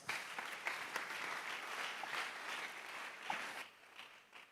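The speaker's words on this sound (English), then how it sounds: "Give a round of applause." An audience at a conference gives a round of applause, steady dense clapping that fades toward the end.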